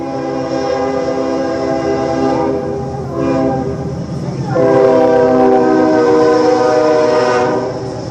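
A Norfolk Southern freight train horn blares in long, loud chord blasts, a short pause before a second sustained blast, with rail rumble underneath as the train approaches close by.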